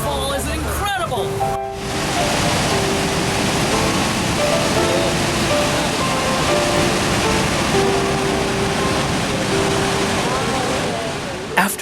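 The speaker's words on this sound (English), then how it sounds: "I'm right here at Niagara Falls on the Hornblower. This is an incredible experience. This waterfall is incredible." Niagara Falls thunders as a loud, dense, unbroken roar heard from aboard the Hornblower boat, a broad rushing wash of water close by, with a brief clatter of handling noise at the start before the roar settles.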